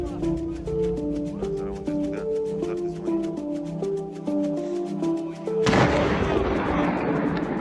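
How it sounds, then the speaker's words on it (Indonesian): A mine set on a road and bridge in Artyomovsk detonates in one loud, sudden blast near the end, its roar and debris rumble following a stretch of steady rhythmic music. "Ia memasang sebuah ranjau dan meledakkannya dari kejauhan"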